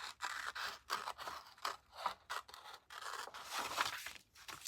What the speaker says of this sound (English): So first I'm going to cut out my reindeer.